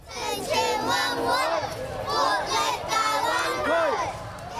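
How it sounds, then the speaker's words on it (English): Children in a torch relay crowd chanting slogans in loud rhythmic bursts, repeated phrases rising and falling close by amid general crowd noise. "Some children waved flags as they chanted slogans to show their support."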